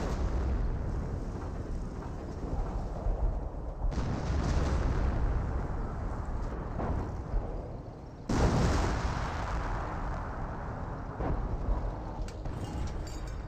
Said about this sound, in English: Yeah, more artillery.